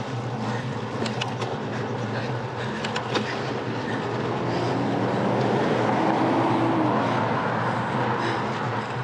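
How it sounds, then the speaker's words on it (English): A small backyard toy train runs steadily throughout, a continuous rolling rumble with faint rhythmic clicks, heard from a passing bicycle amid wind and road noise. "Someone's got a little toy train thing in their backyard, that's cool."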